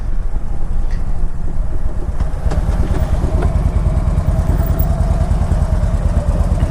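A 2003 Harley-Davidson Street Glide motorcycle riding up a mountain road: a loud, steady, rumbling engine drone with heavy wind buffeting on the microphone throughout.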